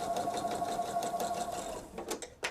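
Close, steady whirring of a sewing machine stitching a quilt seam on a Veterans Day quilt, with rapid needle ticks throughout. Near the end it slows into a few separate clicks.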